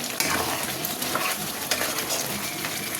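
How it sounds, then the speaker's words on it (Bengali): Malai chicken with garam masala being stirred in a hot pan, a steady close sizzle of frying with scraping spoon strokes against the metal, no voices. "আবার একটু নেড়ে দেবো ভালো করে।"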